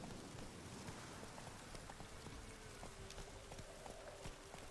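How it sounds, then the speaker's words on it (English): Steady, dense rain hiss from a downpour in the video game The Witcher 3, with faint horse hoof clops and small drip ticks over the wash, heard alone at low level. "This downpour's a bastard"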